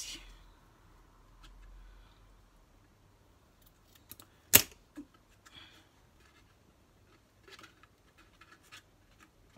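Scissors cutting lace for a scrapbook cradle: a few faint snips and small scratchy ticks in a quiet room, one sharp crisp cut standing out midway, with light handling noises after.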